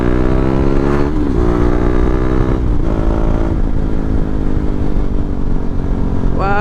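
A KTM 390 Duke motorcycle runs loud and steady while ridden, its engine note holding a constant roar with rising and falling pitch as the rider revs and shifts throughout.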